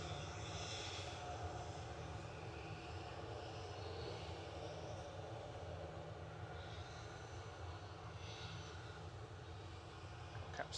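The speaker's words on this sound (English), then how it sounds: "Catch the Lufthansa landing." Lufthansa airliner landing at Manchester Airport, a steady distant jet engine roar holding throughout without a break, faint overall and with no voices.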